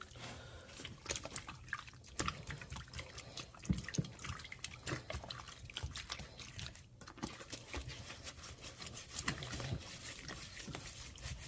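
Water runs and trickles over a vintage 1980s My Buddy doll during a rinse, a steady low splashing stream with faint drips, moderately quiet and continuous throughout with no talking.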